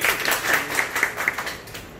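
An audience gives a short burst of applause at a food-distribution gathering, quick scattered clapping that sounds a little distant and fades out.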